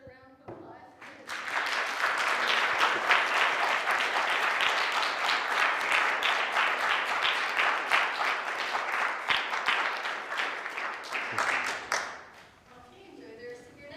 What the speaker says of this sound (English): let us give Clement another round of applause